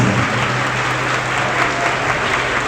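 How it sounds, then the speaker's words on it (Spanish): Loud, steady applause from the audience at a religious debate, a continuous wash of many hands clapping that fills the whole moment without pause. "Me honran sus aplausos"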